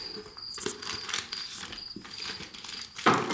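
A plastic bag around a RED Komodo-X battery crinkles and rustles in short, close bursts, with a sharper crumple at the end and no talking.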